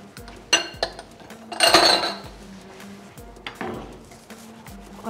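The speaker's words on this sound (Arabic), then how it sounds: "اقلب الصوص اللي انا عملته" Utensil scraping and clinking against a pan while stirring sauce and fish fillets, several sharp metallic knocks and clanks at irregular intervals, close and moderately loud with no talking.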